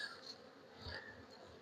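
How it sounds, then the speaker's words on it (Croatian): Honey bees hum in an open beehive during a colony inspection, a faint, steady buzzing drone with brief rises as the frames are handled, heard alone without voices. "Dole vidim da ima pčele, možda ću morati pogledati donji nastavak"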